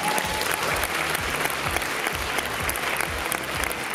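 Warm, sustained applause from a concert hall audience, dense and even throughout with a low murmur of the crowd beneath the clapping.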